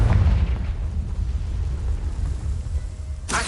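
A Confringo fire spell bursts in Hogwarts Legacy, a loud booming blast at the start that decays into a rumbling tail, with a sharp crackle near the end.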